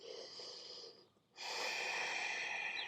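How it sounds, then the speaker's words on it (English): Two long, close breaths through the nose during yoga breathing, a soft hiss fading out, a brief pause, then a fuller, steady airy exhale that carries to the end, with no talk. "slow complete exhale."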